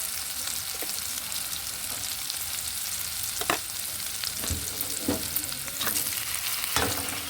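Chopped chili, carrot and tomato fry in a pan for vegetable pasta, with a steady, close sizzle broken by occasional scraping stir strokes.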